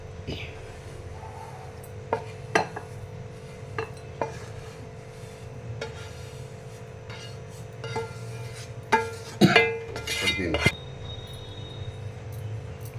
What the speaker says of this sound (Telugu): స్టవ్ ఆపేసి ఒక బౌల్లోకి ఇదంతా తీసేసుకుందాం